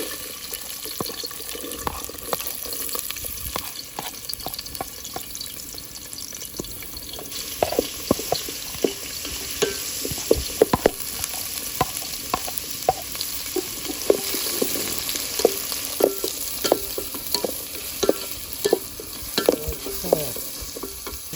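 Chopped onion fries in a pan of hot oil for a mutton head and mango curry. A continuous sizzle runs under frequent ladle taps and stirring scrapes that grow busier halfway through, with no voices.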